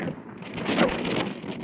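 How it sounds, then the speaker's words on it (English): Wind gusts blow outdoors along the seafront at Roscoff, buffeting and roaring close up with a brief swell in the middle. "It's a bit windy, but not too bad."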